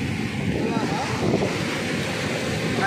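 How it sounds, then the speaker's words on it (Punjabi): Strong sea waves churn and surge in a continuous rough wash, heavily mixed with wind rumble buffeting the microphone, with no distinct single crash standing out. "ਲਹਿਰਾਂ ਬਹੁਤ ਤੇਜ਼ ਆ ਦੇਖ ਕਰਕੇ"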